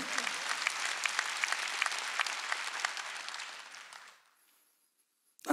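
A church congregation applauds during a Korean Sunday worship service, steady dense clapping for about four seconds before it fades away, followed by near silence and a brief sharp noise at the end.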